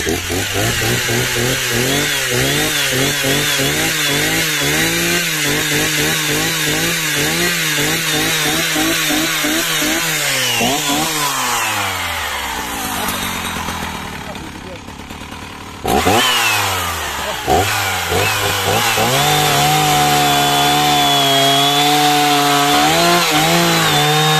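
A loud 1972 Husqvarna 180 chainsaw engine revs and roars while cutting wood, its pitch rising and falling, dropping to a lower idle midway before surging again.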